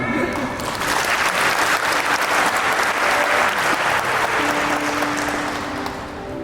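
Sustained audience applause at an indoor talk event, dense and loud, holding steady for several seconds before easing slightly, with faint voices underneath.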